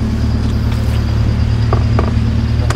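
An engine with a non-standard aftermarket exhaust idles steadily and close, with a deep, loud rumble that barely varies. A few faint clicks and taps sit over it, and nobody speaks.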